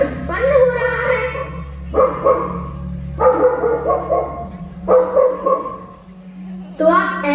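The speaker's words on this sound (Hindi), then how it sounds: "मैं अभी आपका भौंकना बंद करता हूँ।" During a school stage play a dog barks repeatedly in loud, spaced barks, with children's voices and stage talk running alongside.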